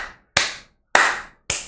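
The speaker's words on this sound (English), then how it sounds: "Clap it up, everybody." Three single, sharp hand claps ring out loud and close at a slow, uneven pace, each one echoing briefly before a gap of silence. No crowd joins in.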